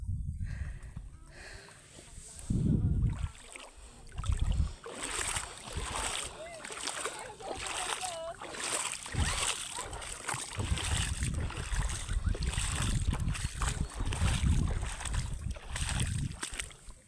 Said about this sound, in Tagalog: Ay, may alon na. Kanina walang alon,